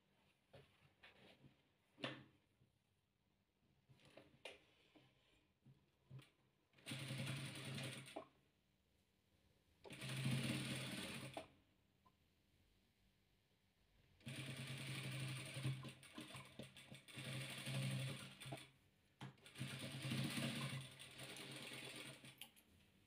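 Sewing machine stitching colourful patchwork strips, running in five separate bursts of rapid whirring, each a few seconds long and close by, with quiet clicks and fabric handling in the pauses between.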